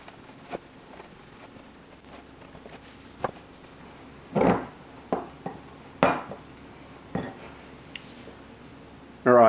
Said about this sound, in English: Now we're going to use a wooden spoon to mix the flour in.